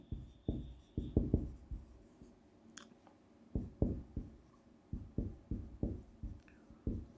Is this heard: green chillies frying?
no